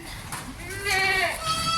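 A goat bleats at a farm during feeding, a wavering, nasal call that swells loudly near the middle and is followed by another shorter bleat, with faint background murmur around it.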